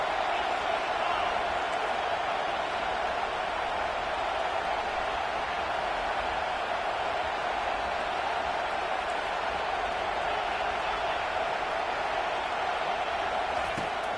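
A home crowd at a college football game roaring loudly and continuously, a dense, steady wall of cheering from a packed stadium with no breaks.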